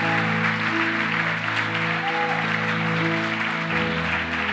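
Church congregation clapping together at a night worship service, a steady dense wash of applause running throughout over sustained music tones.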